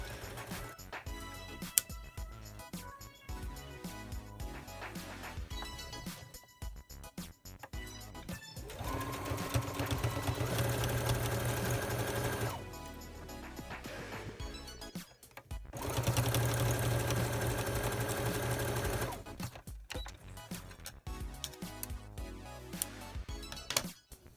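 Short bursts of a sewing machine back stitching a fabric mask, rapid mechanical rattling that starts and stops several times, close and clear with brief pauses between runs.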